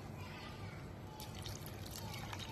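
A glass of water poured over squash pieces in a cooking pot gives a steady, close splashing trickle that runs continuously and brightens slightly toward the end.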